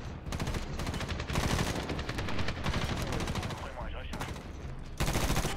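Bursts of automatic gunfire in Medal of Honor, rapid and loud, with brief pauses between volleys and a speaking voice partly mixed in.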